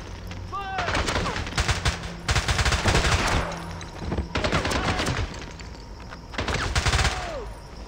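Rapid gunfire in the video game James Bond 007: Bloodstone, sustained bursts of automatic shots with brief pauses between volleys, loud and close, with some talk mixed in.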